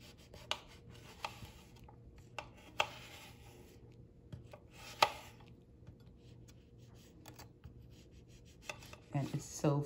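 A knife slicing prepared lemon and orange peel on a board gives scattered soft, sharp cuts at an irregular pace, quiet and close, with a burst of denser handling at the end.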